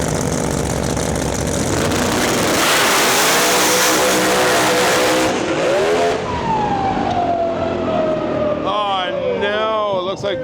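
Drag race cars at a Rocky Mountain Nationals event tear down the lanes in a loud, sustained roar of engines rising in pitch as they accelerate, followed by a fading whine and further revving near the end, with talk over it.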